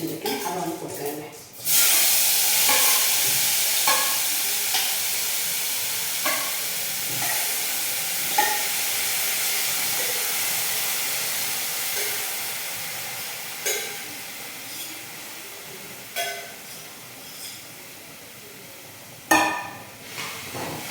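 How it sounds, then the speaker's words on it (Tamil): Two dried red chillies fry in a pan, a bright steady sizzle that bursts up loudly at the start and then hisses on, broken by a few sharp crackles and stirring clicks while someone talks over it. "2 மிளகா வத்தல் அப்படின்னு நல்லா வதக்கிப்போம்"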